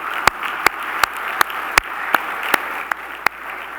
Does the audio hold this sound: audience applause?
yes